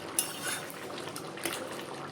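Katla fish-head muri ghonto curry is tipped from a pan into a bowl, with a soft metallic scrape and clink of utensil on cookware over a low, steady wet rustle, close and quiet.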